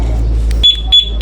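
Suzuki Access motorcycle alarm answering a remote with a few short, bright electronic chirps in quick succession, close by and loud, after a moment of low rumble.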